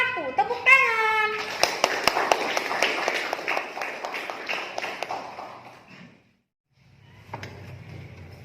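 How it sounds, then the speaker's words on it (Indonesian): Applause for a student group presentation in a classroom session, a burst of many hands clapping that runs for several seconds, fades out, then a brief tap and a quieter noisy stretch follow. "Tepuk tangan."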